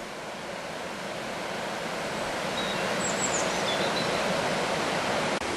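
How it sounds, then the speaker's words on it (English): The River Ure flowing below a hilltop folly at Hackfall in North Yorkshire, heard as a steady broadband rush of water, continuous and fairly distant, with faint wind and a few thin bird chirps, no voices. "We're stood in front of the folly now, just having a look at the river down below."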